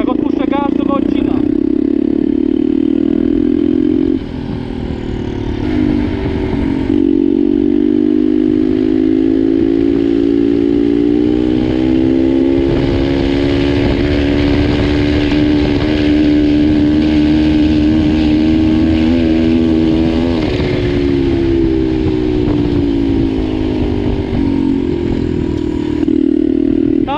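A turbocharged pit bike engine running 1 bar of boost with a faulty blow-off valve buzzes loud and near, rising and falling with the throttle, with abrupt drops as the gas is let off.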